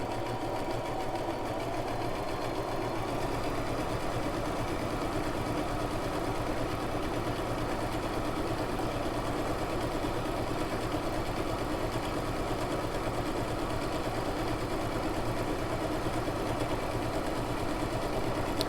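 A Brother LX3817 sewing machine backstitches fabric with a steady, close mechanical whir and needle rhythm that runs continuously at even loudness, with no talking.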